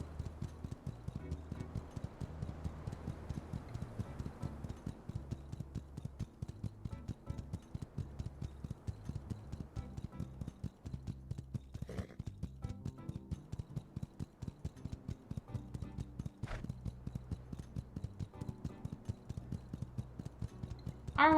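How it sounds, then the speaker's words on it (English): Steady, even clip-clop of horse hooves from the video game My Time at Sandrock, a brisk continuous rhythm running the whole time over a low game soundscape, with no talking. "Our horse is gonna get tired out soon enough."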